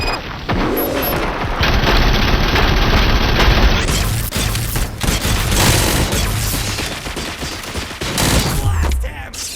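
Gunfire in Robocop Rogue City, a dense, loud burst of rapid automatic shots and booming impacts that continues almost without a break across the whole stretch, close and heavy, with no clear speech over it.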